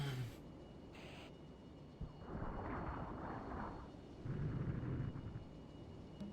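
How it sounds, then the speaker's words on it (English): Cluster artillery explosions in the Cold War strategy game Armored Brigade 2: a sharp thump followed by rolling, rumbling bursts that swell twice at moderate distance, with no voices. "Why do they have such good cluster artillery?"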